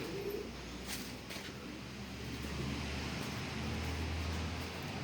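Domestic pigeons coo softly in low, repeated calls beneath steady background hiss, with no voices present.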